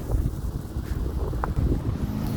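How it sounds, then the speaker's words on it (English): Wind blows outdoors in gusts, buffeting the microphone with a low, steady, rough rumble that rises and dips over a couple of seconds. "It's a little windy out today, but let's see how it does."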